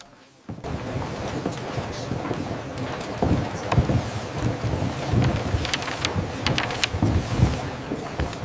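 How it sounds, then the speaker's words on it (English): Wind rising into a steady, broad roar that swells louder about halfway through, gusting unevenly, with faint rumbles mixed in and no talking. "The wind is picking up."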